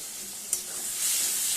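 Spice paste sizzling as it fries in a pan for a katla fish curry, a steady close hiss with a brief clink of a utensil, then the sizzle growing slightly louder.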